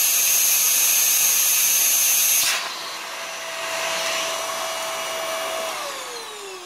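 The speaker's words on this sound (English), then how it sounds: "We're vacuum sealing all our small clothes" Small clothes vacuum sealed into storage bags: a loud steady vacuum whine runs for a couple of seconds, then cuts to a quieter suction hum with a tone that slowly drops as the bag tightens.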